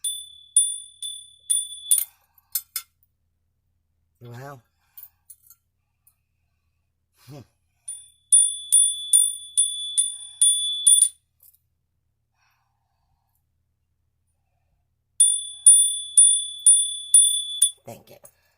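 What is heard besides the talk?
bell being struck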